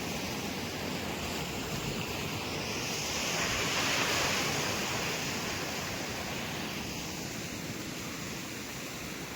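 Sea waves wash continuously onto a beach at high tide, a broad steady roar that swells slightly midway, heard at a moderate distance with some wind and no talk.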